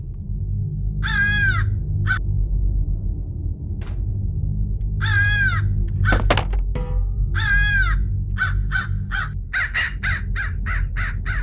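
A crow in the video game Hello Neighbor caws loudly in repeated bursts of harsh calls, with a thud midway, over a low steady rumble.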